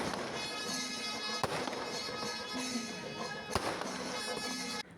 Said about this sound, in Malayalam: ഒരു വീടിന്റെ പൊക്കത്തുനിന്ന് പടക്കം പൊട്ടിക്കുന്നുണ്ടായിരുന്നു.